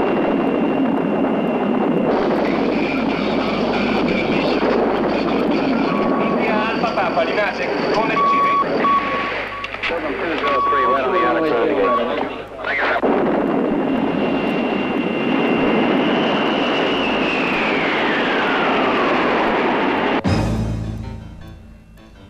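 A landing airplane gives a steady roar with a tonal whine that slides downward near the end before cutting off abruptly, with voices talking in Italian over it.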